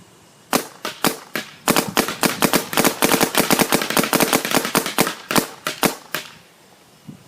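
A GTEK 160r paintball marker fires a long string of shots, loud sharp pops in irregular fast bursts, sometimes nearly continuous, with no voices over them.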